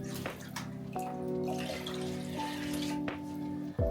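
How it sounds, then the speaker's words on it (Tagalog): Water runs steadily from a tap, filling a container in a preheated sauna in a glass igloo in Finland, with a constant rushing flow and a few small knocks and clunks near by. "Kuha ka ng tubig dito."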